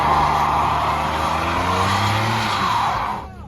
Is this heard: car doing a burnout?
yes